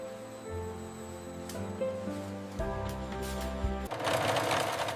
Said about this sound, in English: Clean finishing begins with flawless stitching precision. Premium borders strengthen the mattress while enhancing its appearance.